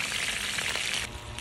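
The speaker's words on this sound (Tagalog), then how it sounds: "Ato ning ihap cook prito daan ang atong mga manok." Chicken pieces frying in a pan, a dense, continuous crackling sizzle held close and steady throughout, with no voices.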